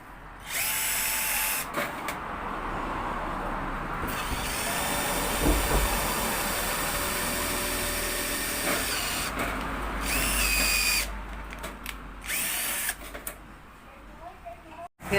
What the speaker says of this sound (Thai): ผมจะเจาะนำก่อนนะครับเดี๋ยวค่อยไปใช้สว่านแท่นเจาะอีกที